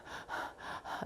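A person demonstrates panting during a breathing-meditation lesson: three rapid, shallow gasping breaths in an even rhythm, close and clear with no talking.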